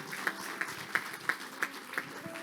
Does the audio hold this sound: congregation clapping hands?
yes